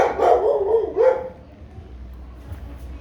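A dog gives two close, loud barks in quick succession, then falls quiet with only faint background noise after.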